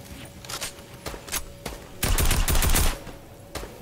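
Tommy gun fire in an online shooter video game, rapid bursts of automatic gunfire crackling in several short volleys, the heaviest sustained burst in the middle, with other distant shots scattered around.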